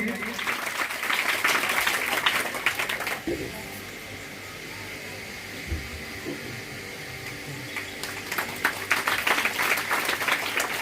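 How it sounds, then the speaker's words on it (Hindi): Audience at a stage event in Pathri clapping loudly, a dense crackle of applause that fades out after a few seconds into quieter hall ambience with someone speaking over the PA, then builds back into strong clapping. "जोरदार ताली बजनी चाहिए।"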